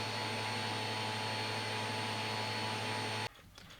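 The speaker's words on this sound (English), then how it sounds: "When I took a vacuum to it, you could see a bunch of animal hairs sticking out." Vacuum cleaner run over a ThinkPad X61 tablet keyboard to pull out animal hair, a loud steady whining drone with a constant hum that cuts off sharply near the end.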